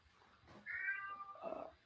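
A house cat lets out one drawn-out meow followed by a shorter second call, close and fairly quiet in an otherwise still room.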